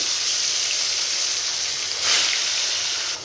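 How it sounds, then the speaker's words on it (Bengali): Fish frying in hot oil in a kadai, giving a steady, close broadband sizzle that holds throughout and swells briefly near the end. "তেলটা গরম হয়ে গেছে মাছগুলো দিয়ে দিব"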